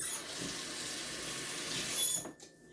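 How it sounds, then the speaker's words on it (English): Tap water running into a sink to rinse a wire whisk, a steady close rush of water that cuts off near the end with a small knock. "Let me wash this off."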